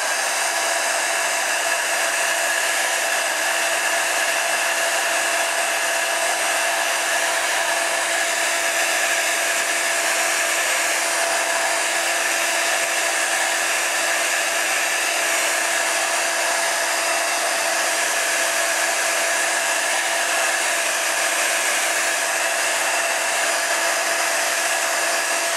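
A heat embossing tool blows hot air onto embossing powder in one steady, loud, unbroken whir, close up with no speech throughout.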